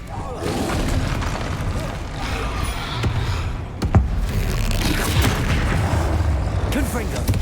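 Confringo blasting spell fired in the video game Hogwarts Legacy, a dense run of booming explosive bursts and crackling impacts over a continuous loud battle din, with a sharp bang near the middle.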